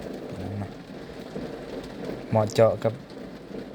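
Light rain begins to fall under a dark, stormy sky at an outdoor garden work site. It makes a soft, steady patter beneath a voice, with a brief louder stretch of speech near the end.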